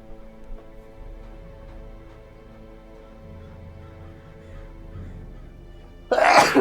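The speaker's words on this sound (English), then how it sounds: "that was a hidden sneeze" A single sharp sneeze bursts out at the very end, loud and close, after several seconds of quiet background hum.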